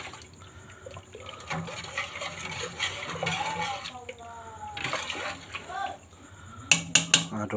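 Tea with grated ginger is stirred in a pot, giving soft liquid swirling and scraping under a speaking voice, ending with several bright metallic clinks from a utensil against the pot.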